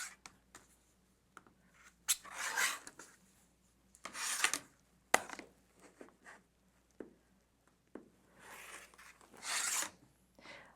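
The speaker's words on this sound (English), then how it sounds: "I would normally trim those little dog ears off" Scissors snip the dog ears off quilt block fabric for a Snail's Trail block, a series of short close cutting and rustling bursts separated by quiet gaps.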